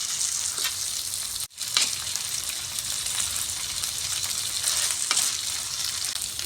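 Ginger garlic paste fries and is stirred with a spoon in a pan for egg curry, a loud, close, steady sizzle with soft stirring scrapes and a brief drop in the hiss near the start.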